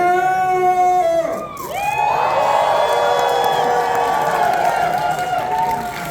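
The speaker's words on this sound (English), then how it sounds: "But first I need to hear some cheer!" A crowd cheering and whooping at a dance competition, loud and sustained, rising after a brief dip and holding as a broad roar of voices.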